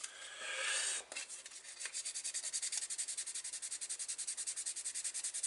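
Steady abrasive sanding on the body of a Citroën DS 21 Pallas scale model car by Ebbro, a close rasping rub that settles into a fast, even back-and-forth rhythm after a brief pause, with no talking.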